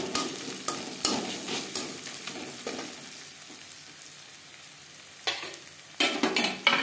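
Crushed garlic hits fried onions in hot oil for Bengali matar ghugni, sizzling close with stirring scrapes, quieter in the middle then bursting louder near the end.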